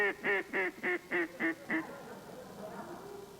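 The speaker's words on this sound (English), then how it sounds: "This is the long distance call." A duck call blown as a long distance call: seven loud, evenly spaced quacking blasts in quick succession, then a quieter trailing noise, heard on a television panel show.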